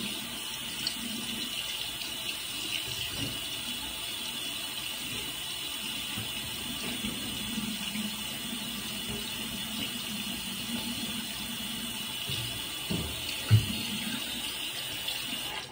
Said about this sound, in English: I just run the hair under hot water.